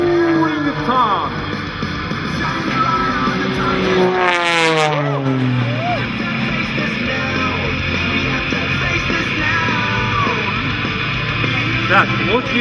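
A steady engine drone from an aerobatic aircraft rolling through a turn and then climbing, with the pitch sliding and sweeping as it manoeuvres overhead.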